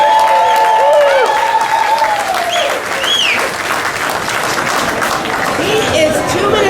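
Loud crowd of diners cheers and applauds steadily at the 72-ounce steak challenge at the Big Texan, with shouts and whistles riding over dense clapping throughout.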